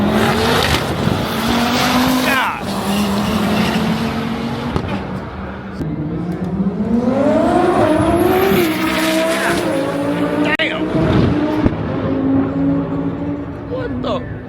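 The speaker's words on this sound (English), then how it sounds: "Supra sounds insane." Toyota Supra race car at a street car takeover drag and roll racing event, its engine roaring loud and continuous with rising revs and a tire squeal, under a crowd's chatter and talk nearby.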